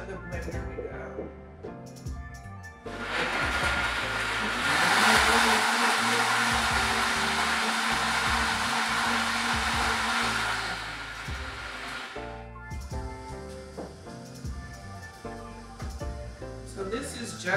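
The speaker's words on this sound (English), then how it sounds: "And off to the blender we go." A blender whirs through a banana and agave smoothie, a loud, steady roar starting after a few seconds and running for about eight seconds before cutting off, with music playing underneath throughout.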